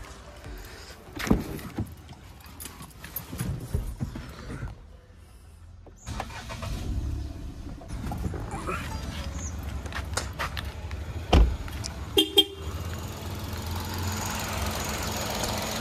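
A used Ford EcoSport petrol engine cranks and catches, then settles into a steady idle, with a few clicks and knocks nearby.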